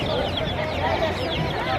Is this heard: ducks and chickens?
yes